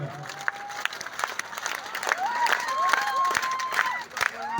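A crowd claps in a steady rhythm at a devotional mandvo gathering for Bhutada Dada, the hand claps ringing out over a sung melodic voice close by.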